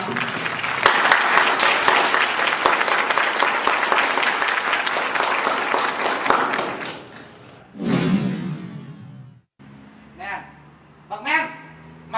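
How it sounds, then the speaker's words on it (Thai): Dense audience applause at a university award ceremony, a steady wash of many hands clapping for several seconds before it stops abruptly; a few thuds and voices follow. "ขอเสียงปรบมือด้วยครับ"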